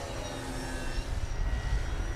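Model airplane with twin elevators flying inverted overhead, a steady distant engine drone with a faint whine over low rumbling wind noise, no voices.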